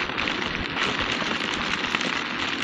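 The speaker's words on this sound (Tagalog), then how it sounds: "Oh, grabe, napakalakas ng ulan." Heavy rain pours down steadily during a drive through a downpour, a dense, loud, continuous hiss with scattered harder pattering hits and no voices.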